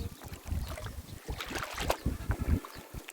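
Strong wind buffets the microphone aboard a boat on the water, loud, gusty rumbles with irregular thumps, no talk.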